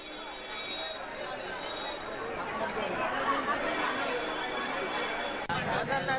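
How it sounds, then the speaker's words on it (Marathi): Steady hubbub of a large crowd of devotees at the Vitthal temple in Pandharpur, dense overlapping chatter continuous throughout with no single voice standing out. "भाविकांची गर्दी आहे।"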